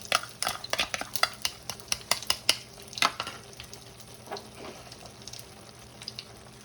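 Egg and beef brain are stirred and scrambled in a sizzling frying pan, with a utensil scraping and tapping the pan in quick bursts that thin out over time above a steady frying hiss. No one speaks.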